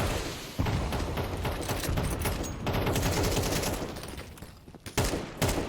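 Dense, continuous gunfire from Counter-Strike fills the scene, a loud sustained burst of rapid shots with a few heavier thumps near the end and no talking.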